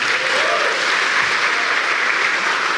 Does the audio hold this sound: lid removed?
no